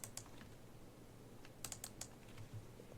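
Short bursts of key presses on a computer keyboard as a number is entered into an image-editing field, a few quick clustered clicks with pauses between, close and fairly quiet.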